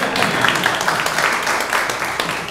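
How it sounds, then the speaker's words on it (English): Audience clapping at an in-person tech talk meetup, a steady wash of applause filling the room from a modest crowd, with some murmuring voices underneath. "You can clap."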